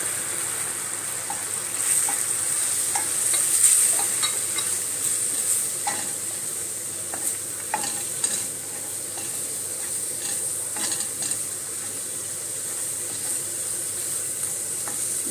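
Tomatoes and chili sautéing in a pan for an anchovy fish curry, with a steady close sizzle and occasional stirring scrapes throughout, no voices.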